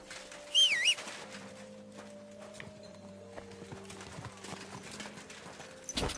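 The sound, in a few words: horse hooves walking, from a video game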